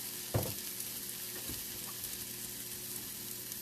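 Sauce stirred in a hot pan with a soft, steady sizzle throughout, a single louder scrape or clink near the start and a fainter stir a moment later, close by and with no talking.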